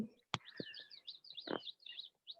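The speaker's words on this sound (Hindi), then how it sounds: "चिड़िया की आवाज इतनी ज्यादा आ रही है" Small birds chirp and twitter busily indoors during a classroom lesson: a run of high, quick tweets and trills, with a couple of sharp knocks and a brief thud mixed in. No one speaks.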